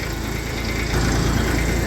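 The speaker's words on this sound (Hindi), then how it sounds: "इसका चलना देखो कितनी मस्ती में चल रहा और कितनी मड़क में चल रहा ट्रैक्टर" Small Massey Ferguson 35 tractor engine running steadily while hauling a sugarcane trolley, a continuous low rumbling chug that grows slightly louder midway, with no talking.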